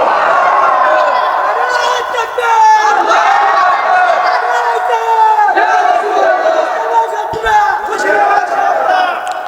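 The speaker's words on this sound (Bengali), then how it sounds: "দুইটা হাত উঁচু করে তাকবীর দিয়ে আমার আল্লাহরে দেখায়া দাও" A large crowd at an outdoor Islamic sermon roars the takbir together, a loud, sustained mass of shouting voices that rises and falls in waves for several seconds, close and filling the space.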